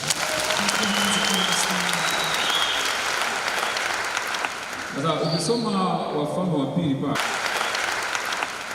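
A business conference audience claps in a broad, steady wash of applause. A speaker's voice runs over it, and a short stretch of talk breaks through before the clapping resumes.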